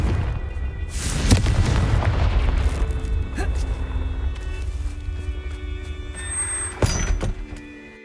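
A Confringo fire spell blasts in Hogwarts Legacy, a heavy booming explosion with a rumbling low-end tail that fades over several seconds, followed by a sharper secondary impact near the end.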